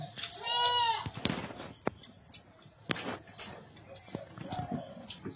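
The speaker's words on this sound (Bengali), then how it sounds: "ছাগলগুলো সব ঘরের মধ্যে ঢুকে দিয়েছে।" Goats in a riverside village bleat once loudly and close by with a wavering cry, followed by scattered knocks and shuffling while people talk in the background.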